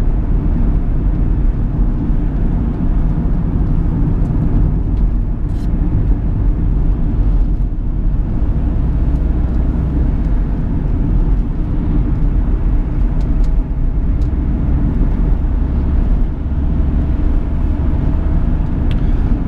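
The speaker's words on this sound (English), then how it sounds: "nice to drive on this uh, very bumpy and potholy road" A 2010 Chevrolet Captiva 2.0 VCDi LS rolls along a very bumpy, potholed road, its cabin filled with a steady, loud low road and engine rumble, with occasional jolts and rattles and no talking.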